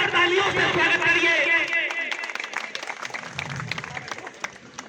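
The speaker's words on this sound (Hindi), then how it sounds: "आइए थोड़ा आप लोग जोरदार तालियों से स्वागत करिए।" A crowd at a village political rally claps to welcome a member of parliament. Voices and shouting fill the start, then scattered applause from a gathered audience carries on.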